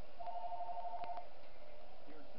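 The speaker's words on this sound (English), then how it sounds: "I'm sorry about the telephone ringing too." A telephone rings faintly in the background, one short warbling burst of ring tone lasting about a second, followed by quiet room noise.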